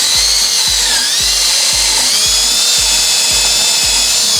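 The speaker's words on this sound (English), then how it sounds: "I'm going to use a wire brush on a drill." Wire brush spinning on a drill scrubbing a brake caliper bracket held in a vise, a loud close whine with a rhythmic scraping pulse repeating about twice a second.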